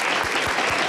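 Audience applause at a swearing-in ceremony for a city councilmember, a steady wash of clapping that fills the whole brief moment, with a few low thumps underneath.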